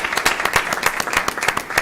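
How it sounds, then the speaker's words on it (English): A small group applauds at a school board of education meeting, sparse and uneven hand claps from a modest room audience, fairly close and steady for a couple of seconds. "So please give them a round of applause, even though they're not here."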